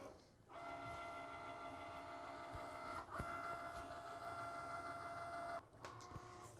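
A vinyl cutting machine slices printable HTV with a steady whirring motor hum and faint clicks as the carriage moves, close and continuous, briefly pausing near the end.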